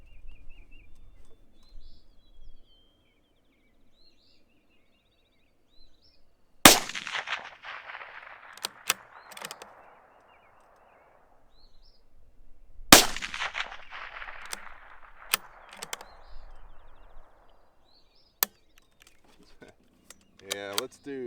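Sharp rifle reports from a Bergara BMR chambered in .22 WMR, two loud cracks several seconds apart, each trailed by a short rolling echo across open ground, with quieter clicks and handling noise between and faint chatter around them.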